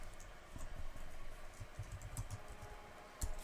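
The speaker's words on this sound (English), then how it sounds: "just bear with me while we type out 3 words" Words typed on a computer keyboard, a quiet, irregular run of soft key clicks with a sharper tap near the end, heard close with no talking.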